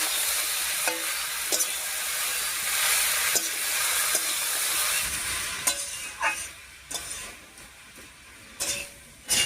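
Dal bori and grated coconut frying in a pan while being stirred, a steady close sizzle with intermittent scraping clicks of the spoon against the pan, no talk.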